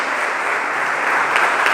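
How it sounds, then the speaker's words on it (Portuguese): Congregation applauding at an evening church service, a steady dense wash of clapping that fills the whole stretch at an even, loud level. "Você pode aplaudir o Senhor."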